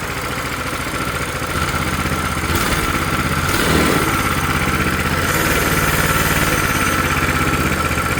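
A brand-new Coleman CT200U minibike with a Hisun engine runs steadily with the choke partly on, giving a close, continuous mid-pitched idle that rises slightly in intensity partway through, with no talking.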